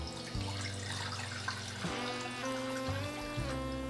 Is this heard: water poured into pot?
yes